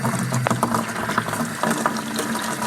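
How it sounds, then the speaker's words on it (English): Water from an outdoor garden hydrant gushes into a bucket in a continuous splashing pour, close and fairly loud, with small gurgling surges. "I'm going to turn my water on here at my hydrant and let it fill up."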